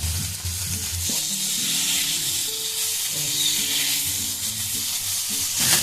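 Chutney mixture with sugar, red chili powder and salt for samosas being stirred in a hot pan, a steady close sizzle with scraping spoon strokes running throughout.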